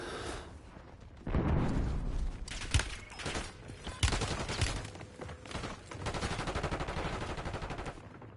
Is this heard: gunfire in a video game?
yes